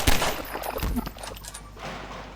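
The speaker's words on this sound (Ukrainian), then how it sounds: "А, ти зверху стріляєш?" Rapid gunfire from the Garry's Mod horror map Necrophobic: a loud burst of close shots at the start, followed by scattered, fainter bangs that fade out.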